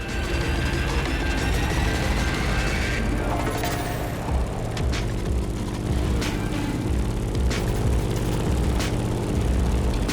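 Grumman F8F Bearcat propeller fighter plane droning in the racing video game The Crew Motorfest, a loud sustained engine roar with shifting pitch and some mechanical clicks, no talk.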